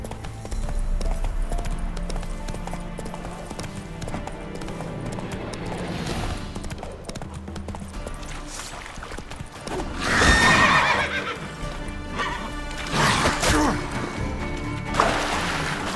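Roach the horse in Witcher 3 gallops with steady clip-clopping hoofbeats, then whinnies loudly a couple of times near the middle and end, with a voice talking over the game sounds.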